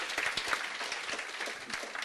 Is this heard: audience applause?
yes